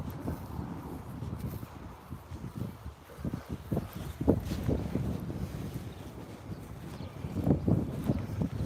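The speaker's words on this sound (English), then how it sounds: "a little bit gusty" Gusty wind buffets the microphone during an outdoor morning walk across a grassy area near waterfalls, with low rumbling bursts that swell and fade irregularly, strongest in a few heavy gusts.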